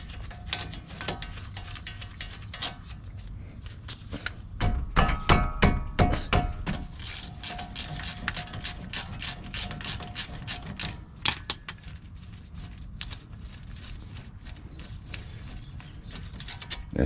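A ratchet clicks in rapid runs while loosening 19 mm caliper bolts on the front brakes of a 2007–2014 Chevy Suburban, with a few heavy thunks as the bolts break free, close and clear.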